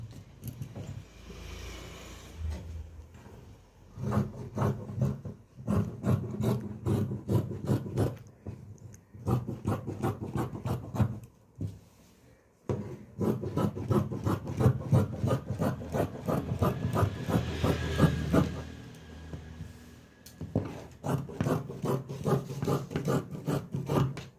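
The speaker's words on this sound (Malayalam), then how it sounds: "ഇനി നമുക്കിതിനെ ഒന്ന് കട്ട് ചെയ്ത് നോക്കാവേ" Scissors cut through cloth for a nightie in repeated short, rasping snips that come in close, steady bursts, with a few brief pauses between runs of cuts.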